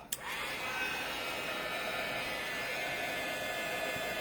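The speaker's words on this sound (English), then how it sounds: "Your heat gun doesn't even have to be that hot." Steady, loud rushing blower noise from a heat gun running continuously, with a small click at the start and no talking.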